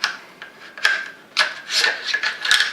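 A bolt carrier slides out of an HK MR762A1 upper receiver, giving a series of close metallic scraping and rubbing strokes with small clicks, uneven in rhythm and moderately loud.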